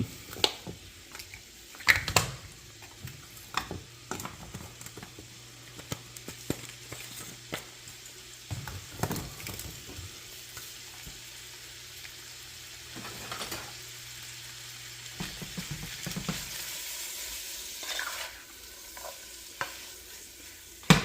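A quesadilla filling with onion powder and seasoning sizzles and cooks down in a pan, a steady low fry broken by intermittent stirring scrapes and clacks of a utensil against the pan, with no talking.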